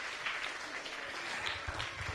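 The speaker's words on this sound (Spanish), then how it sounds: "un aplauso a los medalla de oro de bronce nacional" An audience applauds national gold and bronze medal winners on a live Spanish magazine show, with dense, steady clapping that fills the whole short stretch.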